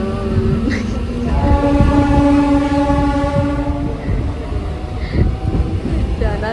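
A train at a busy railway station sounds its horn in long sustained tones, loud and close, over the rumble of the moving train and the murmur of the crowd.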